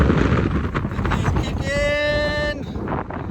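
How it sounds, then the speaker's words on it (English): Strong, cold wind blowing outdoors on a muddy fishing day roars and buffets the microphone steadily throughout, with a brief tonal whistle in the middle. "It's chilly, 50 degrees, but that wind is kicking."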